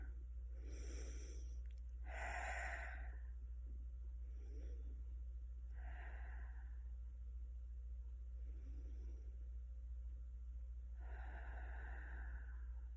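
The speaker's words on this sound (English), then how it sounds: "take a few deep breaths and finish the video" Slow deep breaths, drawn in and let out in a few separate audible swells spaced several seconds apart, close to the microphone over a steady low hum.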